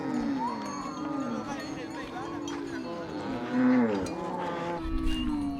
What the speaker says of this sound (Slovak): A všetci bučia, všetky kravy, všetci bíci.